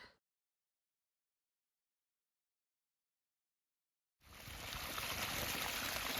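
Water flowing at a trail water source on the Appalachian Trail in the Smokies; after several seconds of silence, a steady, close rushing sound starts abruptly and continues evenly to the end.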